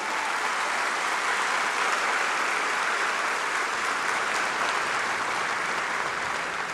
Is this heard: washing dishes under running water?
no